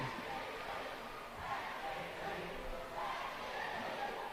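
Crowd noise from a basketball arena during a tight fourth quarter of an NBL pre-season game, Tasmania JackJumpers against South East Melbourne Phoenix, with chanting for a player. It rises and falls in steady waves and sits under continuous talk.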